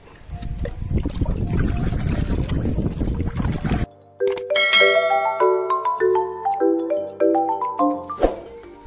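Water soaked with mustard cake for a dragon fruit plant on a Kolkata rooftop is stirred with a close, busy swishing for about four seconds, then gives way to a melodic chiming tune.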